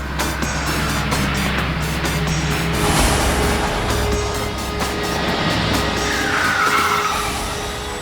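A car brakes hard and skids to a stop in front of another car, tires squealing loudly over a steady engine roar in a tense road scene.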